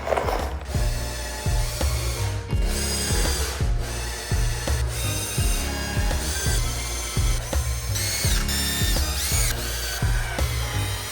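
A power drill drives stainless steel screws into wood to build a box, in repeated close bursts of whirring and ratcheting, each run ending as a screw seats, with short pauses between.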